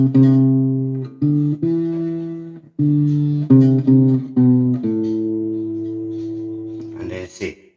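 Acoustic guitar picking the intro of a song, a series of clear plucked notes and ringing bass strings with short gaps between phrases, played up close and alone.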